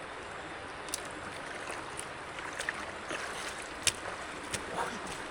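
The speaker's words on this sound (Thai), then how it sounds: "เสียงน้ำก็ดีจังขนาด" Soft water laps and trickles around a small fishing boat, quiet and close, with occasional light knocks and splashes over a gentle outdoor hiss.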